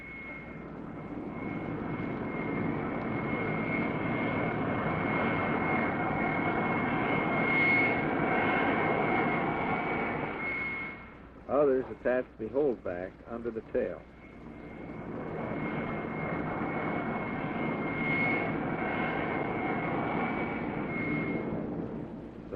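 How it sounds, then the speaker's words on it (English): A carrier plane's engine roars steadily and loudly as it runs up on the catapult aboard the USS Randolph in 1954. The noise briefly drops away midway before rising again, with someone narrating over it throughout. "The catapult officer signals, run up your engine."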